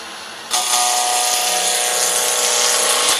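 After a short quiet start, a wood lathe spinning at about 2,000 RPM bites in as a roughing gouge shapes a blank into a cylinder, giving a loud, steady hissing scrape that runs to the end.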